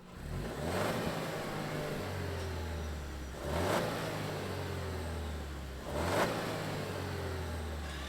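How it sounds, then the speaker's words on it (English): A 2024 Toyota Tacoma TRD Sport pickup with a 6-speed manual revs steadily, with three clear surges of engine noise spaced a few seconds apart over a constant idle drone and no talking. "let's fire it up and see it roll out of here"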